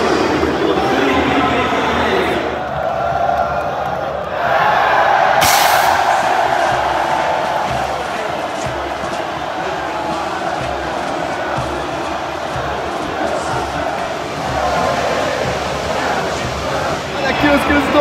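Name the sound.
Palmeiras football fans taunting after winning the title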